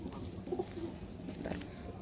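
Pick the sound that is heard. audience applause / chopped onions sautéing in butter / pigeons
pigeons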